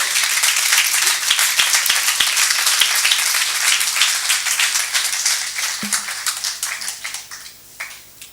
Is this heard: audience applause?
yes